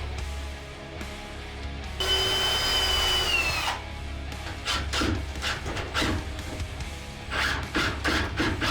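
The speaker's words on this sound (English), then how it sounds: "I pre-drill and put my screws through the shim so everything stays in place." A power drill whirs for about two seconds, pre-drilling pilot holes through shims for screws during a shed window install, its pitch dropping as it bites in, followed by scraping, tapping and handling noises close by.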